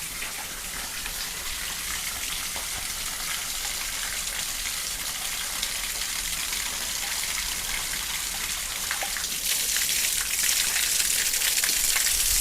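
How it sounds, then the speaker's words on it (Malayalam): Water drains out of a pipe in a steady splashing rush that runs without a break and grows a little louder toward the end. No one speaks. "ഇതിപ്പോൾ നമ്മൾ വെള്ളം കളയാൻ വേണ്ടിയാണ്"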